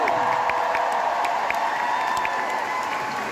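A concert crowd keeps up steady, dense applause and cheering for a man named Kim, a continuous wash of clapping and voices with scattered whoops over the full stretch.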